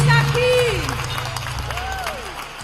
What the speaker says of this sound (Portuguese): Vamos aplaudir o nosso Deus, esse Deus da família que está aqui.